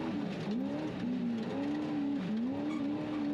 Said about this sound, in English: Motor sounds nice and tight.